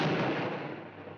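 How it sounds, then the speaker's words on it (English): Cartoon firecracker blast in a 1948 Bugs Bunny pirate short, a loud, dense burst of noise that fills the moment and slowly tails off without any break. "Bugs gives him a cracker, a firecracker, and then blows him up"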